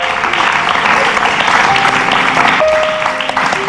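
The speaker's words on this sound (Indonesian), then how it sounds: "Oke, kita beri tepuk tangan yang luar biasa." A studio audience on an Indonesian live talk show breaks into loud, sustained applause, a thick wash of clapping that carries on evenly from start to finish.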